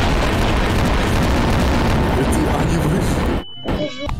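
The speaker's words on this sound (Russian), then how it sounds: "Смотрите, подкидывают бомбу, сейчас взорвется." A bomb blast in Garry's Mod erupts as a loud, broad, rumbling roar that holds for several seconds, then cuts off abruptly into near silence before a few faint after-sounds.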